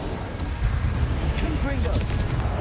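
Confringo and Incendio spell blasts in Hogwarts Legacy erupt as rumbling booms and bursts, overlapping into a dense, continuous barrage of fiery impacts.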